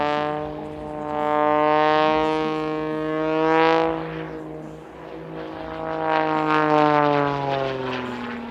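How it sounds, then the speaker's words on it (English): Propeller aerobatic plane flying a solo display at an airshow in Leszno, its engine droning loudly with rising and falling pitch as it swoops and turns, no voices. "This is one of the most extraordinary and punishing solo aerobatic displays on the circuit."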